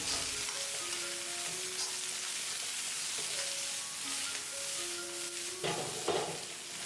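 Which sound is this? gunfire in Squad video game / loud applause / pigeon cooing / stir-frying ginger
stir-frying ginger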